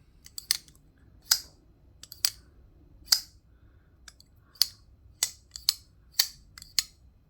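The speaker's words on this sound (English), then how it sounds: "You can push the button down and do the button in and out sort of thing. It's got a cool sound too." The button lock on a titanium pocket knife snaps in and out in a series of sharp, bright metallic clicks, about a dozen spaced irregularly, close and crisp over a quiet background with no talking.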